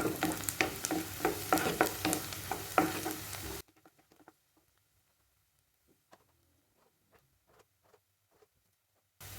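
Onions sautéing in a pan: loud crackling fry with stirring scrapes for a few seconds, then cutting to near silence with faint scattered ticks before a brief return at the end.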